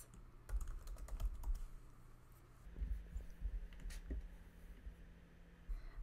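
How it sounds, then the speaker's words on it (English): Quiet, close computer keyboard typing comes in light clusters of soft key clicks with short pauses between bursts, over a low steady room hum. "Now I'm just going to type in my next one."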